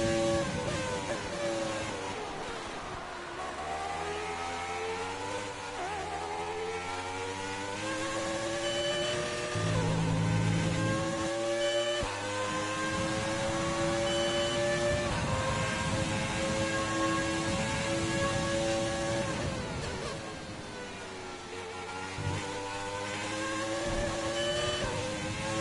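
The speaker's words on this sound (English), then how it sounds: "I love the old sound of the old Formula 1 cars." Old-era Formula 1 car engines in the F1 2020 video game at the Russian GP, a loud continuous high-pitched engine wail with rising and falling pitch through gear changes, running throughout without talk.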